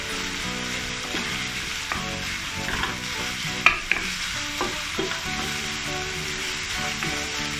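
Minced pork stir-frying with garlic, ginger and chili in a wok, a continuous loud sizzle with occasional scraping stirs and a few sharp clanks.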